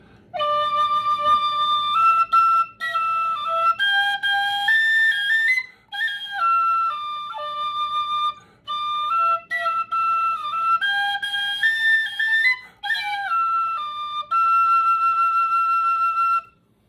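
A tin whistle plays a bright, clear melody of stepped notes in short phrases with brief pauses between them, close and alone.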